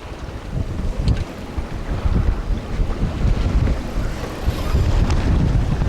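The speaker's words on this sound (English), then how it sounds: "We're sailing up the west coast of Shetland." The sailing yacht Mingming II runs up the west coast of Shetland in open sea, with loud blustery wind buffeting the microphone and rushing water and waves churning beneath, continuous and uneven, with no voices.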